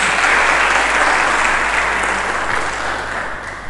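A church congregation applauding during a sermon, loud sustained clapping from many hands that fades slightly near the end.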